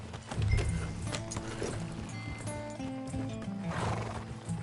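A horse trots along in Red Dead Redemption 2, rhythmic hoofbeats clopping close by with a neigh near the start, fairly faint overall, over a soft background ambience.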